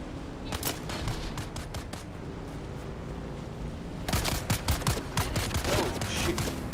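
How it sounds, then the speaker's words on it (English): Rapid bursts of automatic gunfire in the video game Dune: Awakening, continuous volleys that grow louder and denser partway through. "Stop shooting at me."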